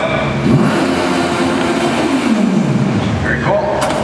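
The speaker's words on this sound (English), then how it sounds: "I can even rev the engine with the button in the center." A remote control toy car's simulated engine sound revs up and winds down, a close, loud electronic vroom with a falling pitch sweep, while a person talks over it.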